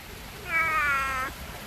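A pet cat gives one drawn-out, clear meow, close by and alone, over a quiet outdoor background at a front-yard pond.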